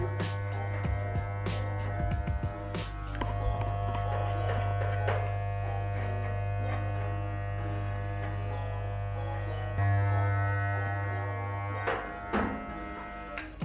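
A French home barber's electric hair clipper buzzes steadily and close, doing a fade haircut at home, a constant motor hum with small shifts in pitch and brief clicks as it moves through hair.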